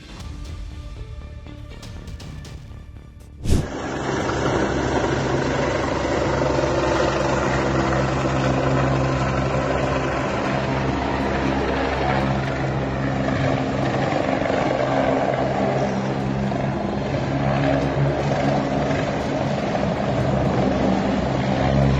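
A helicopter, unable to lift its tail, roars loudly and continuously after a sharp thump, its rotor and engine a dense droning wash with a steady beating pulse.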